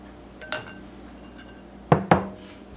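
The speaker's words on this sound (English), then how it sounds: "Now we're just going to add this to our dry ingredients." Utensil and bowl clatter while wet gingerbread muffin batter is added to dry ingredients in a mixing bowl: one sharp clink, then two louder knocks close together near the end, over quiet room noise.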